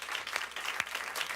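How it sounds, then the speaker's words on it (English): Studio audience applause on a talk show set, a dense patter of clapping at moderate level with no voices over it, a few sharper claps standing out near the end. "Give them a big round of applause."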